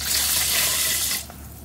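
Magenta leaf water for sticky rice pours in a steady close stream for about a second, then tapers off to a faint trickle.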